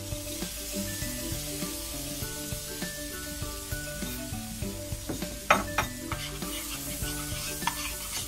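Sun-dried tomatoes and capers are stirred in a sizzling pan, with a soft steady fry beneath gentle scraping and occasional clinks of a utensil against the pan.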